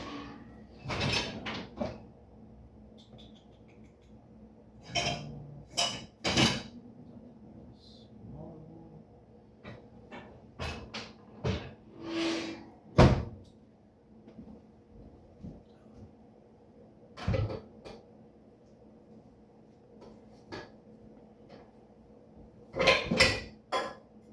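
Scattered clanks, bumps and rattles of dishes and pans being moved around in a dishwasher while searching for a frying pan, with occasional door-like thuds, sporadic and fairly close, no talking.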